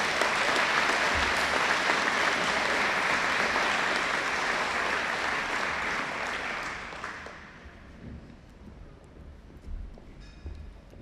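An audience at a school awards presentation applauds house captains called up to the stage, a dense sustained clapping that fills the first seven seconds and then fades to a few scattered claps and room noise.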